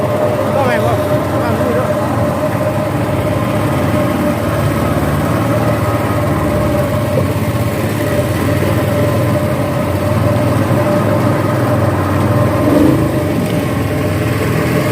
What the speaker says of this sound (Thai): สียงรบกวนแน่เด้อครับพี่น้องเครื่องยนต์ครับ